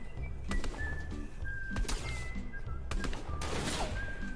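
Gunfire in the video game Fortnite: several sharp shots land a second or so apart over game ambience and faint tonal whistles, with no talk.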